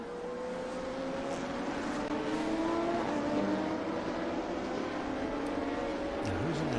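A race car passes on the COTA track during a race, a steady engine drone with shifting pitch that stays close and loud for the whole stretch, then a rising rev near the end.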